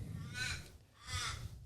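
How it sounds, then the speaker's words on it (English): Crows cawing outdoors, two harsh raspy calls a second or so apart, fairly close and clear over a low background rumble. "Every time we do an outside podcast, it's fucking crows."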